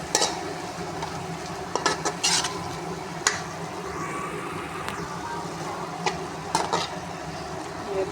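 Chicken frying in a pan with ginger, garlic and green chilli paste, a steady crackling sizzle broken by sharp scrapes and clacks of stirring, close and moderately loud.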